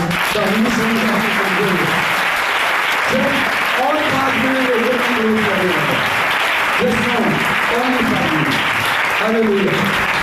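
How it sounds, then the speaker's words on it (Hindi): Loud, sustained clapping from an audience at a church prayer week convention, steady throughout, with a voice speaking over it. "एक ताली ऐसी बजाइए जोरदार।"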